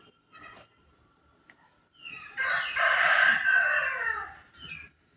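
A crossbred rooster lets out one loud, drawn-out crow lasting about two seconds, fairly close, with a few faint clucks and quiet background sounds around it.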